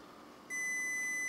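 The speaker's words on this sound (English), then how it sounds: "you'll see we have a beep here" A digital multimeter's continuity test beeps when a shorted cable closes the circuit, a steady high-pitched electronic tone that starts abruptly partway through and holds loud and constant to the end.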